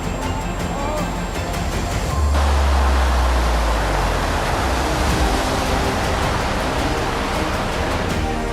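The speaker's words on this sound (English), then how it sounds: "The waves can be seen growing as they come closer and closer" Tsunami waves roll toward a port in Japan as a dense, broad roar of rushing water that swells suddenly and stays loud and unbroken to the end.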